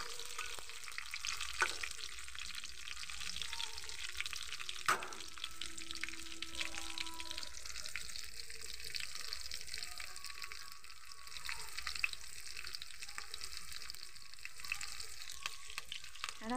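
Green chillies sizzle softly in a pan on a clay stove, a quiet continuous frying hiss broken by occasional scrapes and knocks of a stirring spoon.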